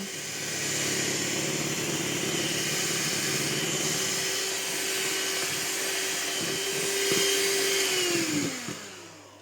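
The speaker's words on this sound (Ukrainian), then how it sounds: "спершу збити білки із цукром і ванільним цукром" An electric mixer whirs steadily as it beats egg whites with sugar and vanilla sugar, a loud continuous motor drone that holds for several seconds before the pitch drops and winds down near the end.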